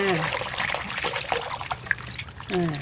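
Purple shallots, peeled, are rinsed and rubbed clean in water, giving close trickling and splashing sounds, with someone speaking over the washing.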